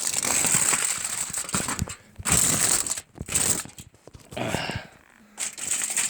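Tin foil is crumpled and folded by hand into a cooking pocket at a campfire, giving close crinkling and crushing bursts separated by brief pauses.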